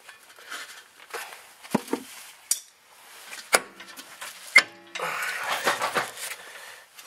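A brake rotor is worked off the rear hub of a 2003 Honda CR-V with a stuck parking brake, giving close, irregular metallic clanks and knocks followed by a scraping, rattling stretch.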